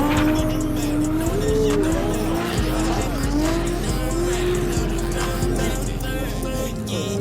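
Drift cars at an after-party event send out loud, wavering tire squeals, riding over a constant engine roar with rising and falling screeches throughout, close and intense.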